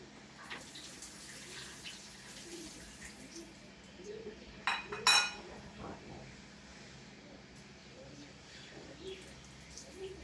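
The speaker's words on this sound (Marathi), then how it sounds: "आता आपण ही व्यवस्थित परत धुवून घेणार आहोत" Karvanda berries are rinsed under running tap water for a pickle, with a soft, faint splashing and a short burst of clinking in the middle, while a low voice is faintly heard in the background.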